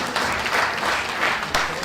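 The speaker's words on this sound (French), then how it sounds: "je voudrais vous applaudir vous-même." Guests at a charity gala dinner applaud in a loud, dense burst of clapping that fills the room, with a few sharper claps standing out near the end.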